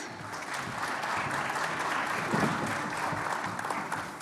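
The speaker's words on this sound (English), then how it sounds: "If we could give them a little round of applause." An audience at a high school visit day panel applauds steadily for student ambassadors, a dense, even wash of clapping that holds for several seconds without speech.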